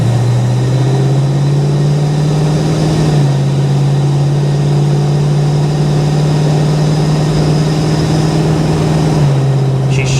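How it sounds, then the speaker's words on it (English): A 1973 Plymouth Scamp engine hums steadily and loudly close by, its low drone dipping briefly in pitch around two shift points with no talking over it. "Those are smooth, crisp shifts."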